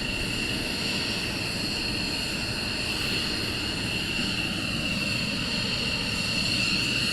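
A military jet at RAF Lakenheath during surge operations rumbles as a continuous broad roar with a high engine whine, steady and fairly loud at a distance, swelling slightly toward the end.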